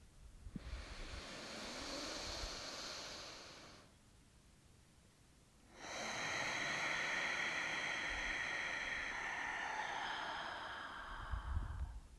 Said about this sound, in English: Take a few more deep breaths on your own.